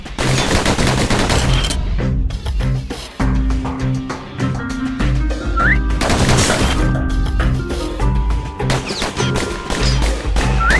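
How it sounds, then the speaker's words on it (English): Rapid pistol fire in the Bastion video game, loud close shots cracking in quick bursts over a droning musical score, pausing briefly around the third second before resuming in dense volleys. "Those pistols can spit out rounds just as quick as you can pull the trigger"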